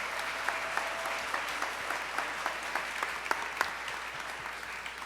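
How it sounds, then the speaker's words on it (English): An audience at a fashion design competition runway show applauds the designers, a steady wash of clapping with scattered sharper claps, moderately distant and continuous throughout. "So another round of applause for our designers."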